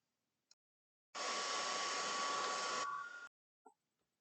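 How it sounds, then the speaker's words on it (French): A hair dryer switches on and blows with a loud steady whoosh for about two seconds, drying a cleaned Nintendo controller port, then shuts off, with small clicks before and after. "Un petit coup de sèche-cheveux."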